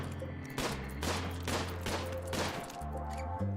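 Rapid bursts of gunfire from the RimWorld colony game crackle in repeated volleys at a steady mid-loud level over a low, sustained musical drone.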